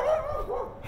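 A neighbor's dog gives a single short bark or yip, close and fairly loud, lasting under a second with no talk.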